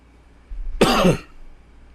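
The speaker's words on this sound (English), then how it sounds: "All this talking is making this cough worse." One short, harsh cough bursts out close by, alone against a quiet room.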